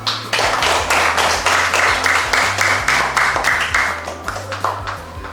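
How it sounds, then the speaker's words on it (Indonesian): A primary school class claps hands together in a steady burst of applause, close and lively, with a low hum underneath, tapering off near the end. "Tepuk tangan dulu"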